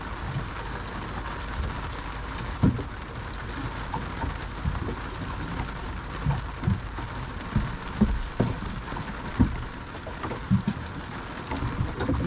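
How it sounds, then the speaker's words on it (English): Rain patters steadily on a fishing boat at sea, with scattered louder drips and knocks standing out against the continuous wash. "Rain's back in again"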